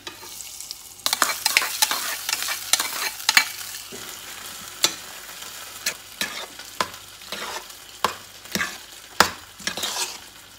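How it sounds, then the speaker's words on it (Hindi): Hot tempering with asafoetida sizzles as it's poured into a dish of curd semiya, followed by repeated clinks and scrapes of a spoon stirring. "अब इसमें डालना है ये तड़का।"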